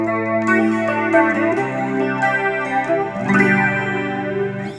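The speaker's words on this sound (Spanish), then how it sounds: "Ese es un flanger." A clean electric guitar plays picked chords and notes with a sweeping, whooshing flanger swirl, moderately loud, with no voices.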